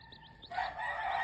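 A free-range gamefowl rooster crows once, close and fairly loud, its strained call breaking in after brief quieter clucking sounds.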